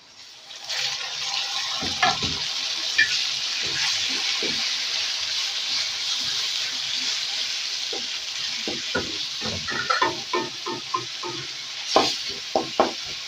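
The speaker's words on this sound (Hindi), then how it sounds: "कीमे को हम अच्छी तरह से इसमें फ्राई कर लेंगे" Minced meat fries with browned onions in a karahi, giving a loud continuous sizzle close by, with intermittent scraping and clattering stirs growing more frequent toward the end and no speech.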